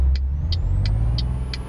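Lorry engine in Euro Truck Simulator 2: a dull, steady low rumble that continues throughout, with a faint rising whine and five regular short high-pitched ticks at evenly spaced intervals.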